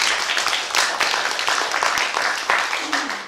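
Applause from the audience at the Tripwire Awards ceremony after the nominees are read out, a dense, continuous patter of many hands clapping in a room, steady and moderately loud for several seconds with a few louder individual claps.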